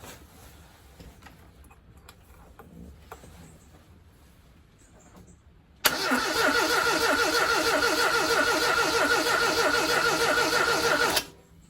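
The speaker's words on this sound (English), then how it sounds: "So I'm just going to try it again and see if it'll start up." A Classic Mini with a fault is quiet for several seconds, then its starter cranks loudly and steadily for about five seconds in a rapid rhythmic churn before cutting off abruptly, and the engine never catches.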